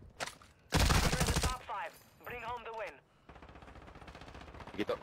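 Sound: gunfire in a video game

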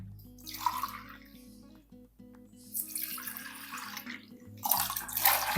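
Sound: pouring three cups of water for rava kesari

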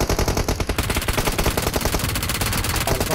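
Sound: gunfire in the video game PUBG Mobile

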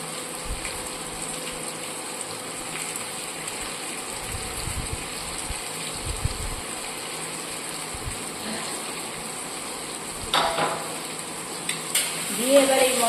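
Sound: spice mix frying in a pan

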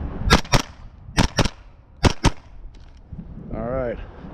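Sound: LWRC rifle gunshots

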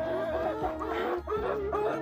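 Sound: chickens clucking

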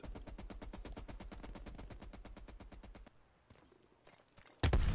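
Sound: MAC-10 submachine gun firing in the video game Call of Duty: Black Ops Cold War

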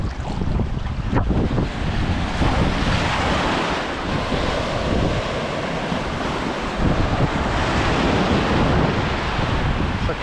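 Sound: ocean waves on the beach at Arraial do Cabo

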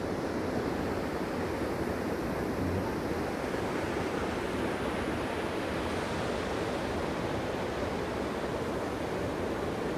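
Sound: waterfall

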